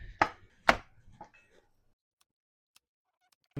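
Garlic is chopped on a board in a home kitchen: two sharp, close knife strikes, then a few lighter taps, followed by near silence and one faint click.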